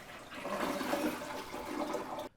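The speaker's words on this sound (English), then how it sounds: "go ahead and flush." A newly installed toilet flushes with a steady, loud rush of water lasting about two seconds, then cuts off abruptly; no talking.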